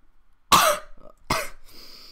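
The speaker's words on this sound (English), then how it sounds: "I cough." Two sharp coughs from one person, close and loud, a short gap between them, then a faint trailing breath or throat noise.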